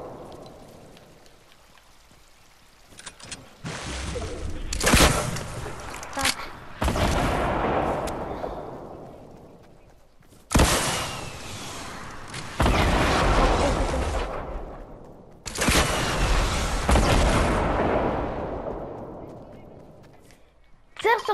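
Rocket strikes in a video game set off repeated heavy explosions, several loud, noisy bursts in clusters, each decaying into a crackling rumble before the next volley lands, with quieter gaps between.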